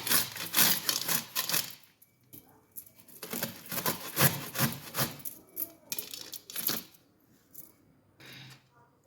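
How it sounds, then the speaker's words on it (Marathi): A raw green mango is grated very finely by hand, giving rhythmic rasping strokes in short bursts with brief pauses between them, fairly close and moderately loud. "आता ही कैरी जी आहे ना ती आपण अगदी बारीक किसून घेऊया"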